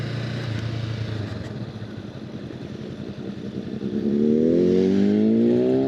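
Motorcycle engine rumbling nearby, then revving up with a loud, rising exhaust roar.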